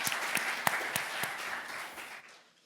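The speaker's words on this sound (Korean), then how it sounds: "조준배 관장님을 박수로 청해 듣겠습니다" An audience at the 4th Korea Guardianship Conference bursts into a steady patter of applause to welcome a speaker, with a few louder claps standing out before the clapping thins and fades away.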